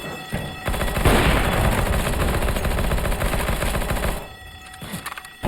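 Rapid automatic P90 gunfire in Counter-Strike: Global Offensive rattles out in one sustained, dense burst of close, loud shots lasting about three seconds, then stops, leaving a few faint clicks.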